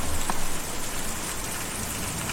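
Steady rain falls in the video game Kentucky Route Zero, a dense, even hiss of drops on surfaces that stays close and constant throughout, with no voices.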